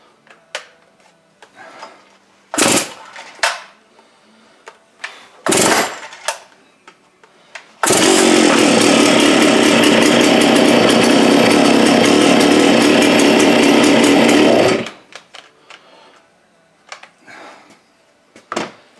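A Farmertec MS660 clone chainsaw, freshly assembled, roars into life on its first start and runs loud and steady for about seven seconds before cutting off, with a few sharp knocks and clunks before and after.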